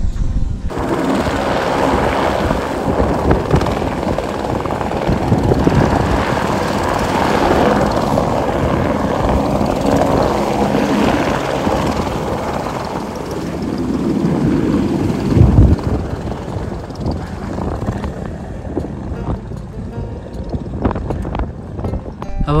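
A helicopter flies near Everest Base Camp, its loud rotor and engine roar holding steady and close throughout before easing slightly near the end.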